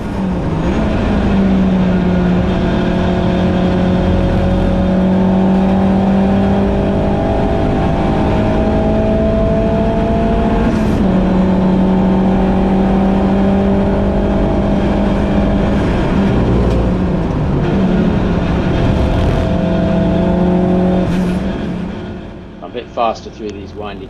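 A loud race car engine at Silverstone GP circuit during a BRSCC ClubSports race drones and climbs in pitch through repeated gear changes, staying close and steady before fading slightly at the end.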